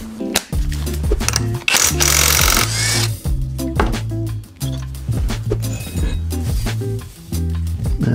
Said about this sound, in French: Allez, clé à choc.